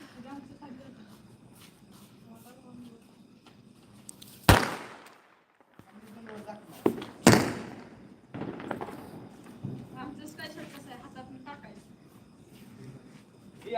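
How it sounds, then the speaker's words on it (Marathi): Two sharp, loud firecracker bangs burst a few seconds apart at midnight on Diwali in Karad, with people chatting nearby on a terrace and quieter pops in between. "आता फटाक्यांचे आवाज चालू झालेले आहेत"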